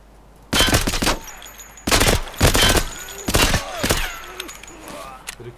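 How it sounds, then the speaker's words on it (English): Gunfire and a flashbang in Escape from Tarkov arrive as four loud, sharp bursts spread over a few seconds, each with a short ringing tail, close and clear above a quiet background. "Can I flashbang you and kill you, please?"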